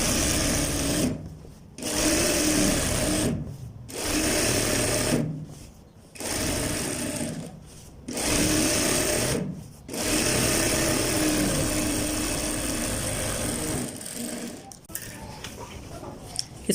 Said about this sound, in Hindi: अब फ्रेंड्स इस सिलाई को आपने डबल कर लेना है ताकि हमारी ये सिलाई यहाँ से मजबूत हो जाए